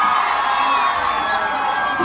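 A live concert crowd in Lavello cheers, whoops and applauds in a dense, steady roar that fills the whole two seconds, with no music playing over it.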